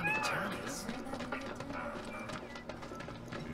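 A cat meows in Final Fantasy VII Remake, a couple of short rising calls near the start, with clip-clop-like steps and background game sound, and people talk over it.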